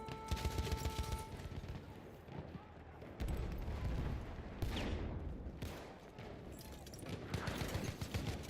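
Rapid machine gun fire in Battlefield 1, loud dense bursts of shots and booming blasts layered over a chaotic battlefield din, with shouting voices mixed in.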